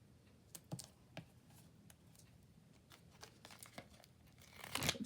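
Quiet crinkly handling noises with soft rustles and light clicks, building to a louder crackling burst near the end, no talking.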